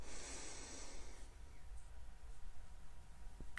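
A deep breath sharply exhaled through the nose during a breathing exercise, a close, rushing snort-like burst that fades into quiet with soft background hiss.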